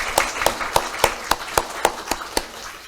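A Korean church congregation at a Sunday morning service gives a short round of applause, nine or ten evenly spaced, fairly close claps that fade slightly toward the end.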